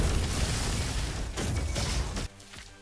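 The Beluga Cannon fires in the Roboquest game, a dense, loud explosive blast with rumbling booms that cuts off sharply near the end.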